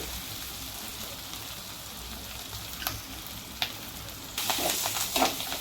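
Chopped onions and green chillies fry in a pan with a soft, continuous sizzle, and a few louder stirring scrapes and crackles come near the end.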